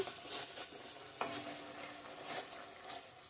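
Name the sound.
sautéing coriander and chili powder in oil for fish curry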